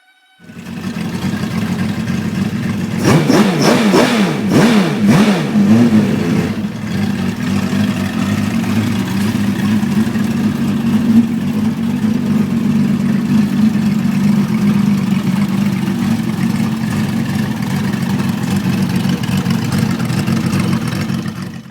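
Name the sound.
homemade Kawasaki V12 2300cc engine running during oil flow test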